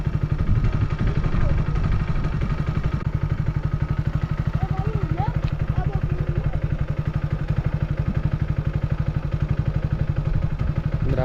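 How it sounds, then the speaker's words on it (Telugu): A motorcycle idles in neutral after starting, its engine running in a steady, close, rapid chugging throb throughout with no clear shutoff. "ఇప్పుడు బండిని న్యూట్రల్లో పెట్టి బండిని అయితే స్టార్ట్ చేస్తున్నాను చూడండి"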